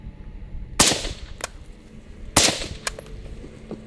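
Two sharp suppressed rifle shots fired into rock, about a second and a half apart, each a loud crack followed by a short echo and a fainter impact.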